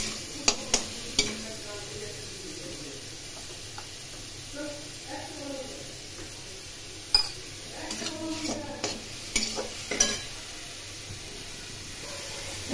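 Cumin and coriander powder frying in a pan, soft sizzling with intermittent clinks and scrapes of a spoon against the metal, close and moderate.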